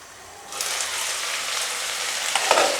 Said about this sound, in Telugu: పొటాటో అండ్ క్యాప్సికమ్ మిక్స్ చేసుకొని మంచిగా ఫ్రై అవుతుంది.